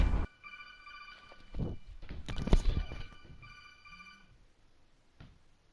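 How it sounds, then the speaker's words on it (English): A telephone rings in a room during video game play, a tonal ringtone chiming in bursts, mixed with thuds and handling noises and a brief voice. "My phone is ringing."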